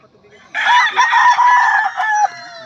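A rooster at a gamefowl farm gives one loud, close, drawn-out crow that lasts nearly two seconds before it cuts off, standing clearly over a quiet background.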